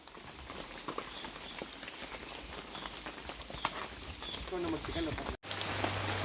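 Steady rain on a rural coconut farm patters across the whole stretch, a dense hiss of drops with a few sharper taps, ending in a brief cut before the downpour resumes.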